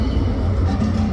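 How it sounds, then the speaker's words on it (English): A city tram rolls past at a Birmingham festival, a brief steady low rumble of wheels and motor heard close and alone. "That's the tram."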